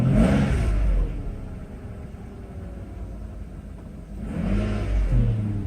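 A Mercedes 600SL engine revs up loudly in bursts just after a cold start, a deep rising roar at the beginning and again near the end, with a steadier lower rumble in between.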